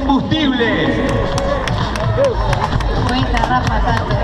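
Spectators at the finish of the 2014 McDonald's race in Montevideo clap in quick, regular beats near the line. The claps sit under loud, close shouting and crowd chatter that continues throughout.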